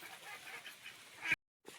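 A pair of ducks feed at a fishing pond where small fish float on stirred-up water, giving nasal honking calls over a steady outdoor hiss before a brief silence.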